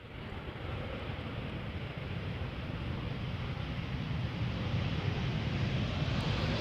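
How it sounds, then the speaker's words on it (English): KLM Cityhopper Embraer 190 arriving at Amsterdam Schiphol from Southampton, a continuous broadband engine roar gradually building in loudness, with some wind-like rush and no speech. "So this is an Embraer 190 arriving from Southampton."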